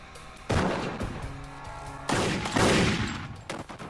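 Heavy gunfire in a police shootout as officers with six-shot revolvers face a suspect's semiautomatic assault weapon; two loud, dense bursts of rapid shots begin about 1.5 seconds apart, with echoing fusillade and no talk.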